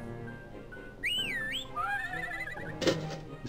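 Spy Fox video game sound effect of three whistles and a neigh: sweeping high whistle tones rise and fall, followed by a brief neigh-like burst near the end, moderately loud with no speech.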